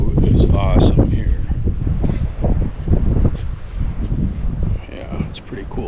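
Strong gusting wind buffets the microphone on an outdoor hike overlooking a lake, a loud, rough rumble that surges and eases throughout, with someone talking over it.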